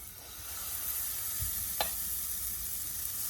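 Beetroot oats pancake batter sizzles and fizzes steadily in a hot pan, a constant close frying hiss with one brief clink of a ladle partway through and no voices.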